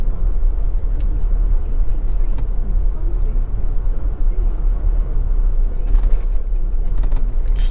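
A car driving past houses, a steady engine and road rumble heard from inside the vehicle, continuous and fairly loud throughout.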